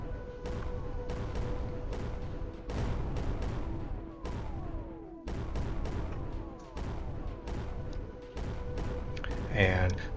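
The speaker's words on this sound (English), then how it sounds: "Pull some mortars in range." Mortars firing in the Creeper World 4 strategy game: a steady series of sharp launching thumps with ringing tails, repeating at irregular intervals over an ambient tone.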